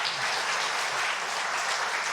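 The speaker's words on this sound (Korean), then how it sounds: "우리 박수 한번 할까?" A church congregation claps during a midweek service, a dense and steady round of applause heard close and at full volume. It stays even for its short length with no speech.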